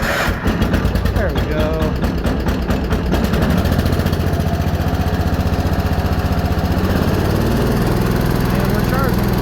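A lawn tractor engine cranks over with the choke on in rapid pulses, then catches and settles into a loud, steady running drone, with someone speaking briefly over it.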